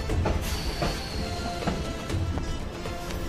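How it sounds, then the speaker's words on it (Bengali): A train pulls into Kalyani railway station during the Durga Puja season, with a steady broadband rumble and faint rhythmic wheel clatter, fairly close and continuous. "আপনারা দেখতে পাচ্ছেন এখনই একটি ট্রেন ঢুকছে।"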